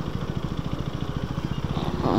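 A motorcycle with a stock silencer rides through a tunnel on a morning ride, its exhaust a close, steady, rapid low thumping that swells slightly at the end.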